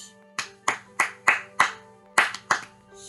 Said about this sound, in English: So then if I were to clap out this rhythm,